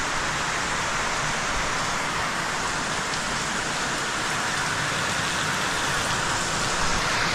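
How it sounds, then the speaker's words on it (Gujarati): Heavy rain pouring down behind a house, a dense, even roar of drops on surfaces that stays loud and unbroken throughout with no voices. "વરસાદ ખૂબ સરસ વરસાદ આવી રહ્યો છે, જબરદસ્ત વરસાદ આવી રહ્યો છે"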